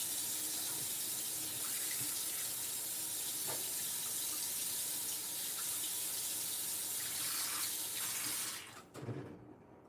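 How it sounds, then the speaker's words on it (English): Tap water runs steadily into a sink, hissing as a black cast iron pan is washed. Faint clinks come through the flow before the water shuts off near the end. "I guess I'll wash this pan in the meantime."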